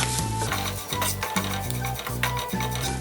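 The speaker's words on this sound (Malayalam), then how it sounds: "1/2 ടീസ്പൂൺ ഗരം മസാല, എന്നിട്ട് നന്നായിട്ടൊന്ന് മിക്സ് ചെയ്യുക." Ground turmeric and garam masala are stirred in a pan for a Kerala-style pepper chicken, a scraping, rhythmic stir of a spoon against the pan, close and steady over a soft sizzle with no voices.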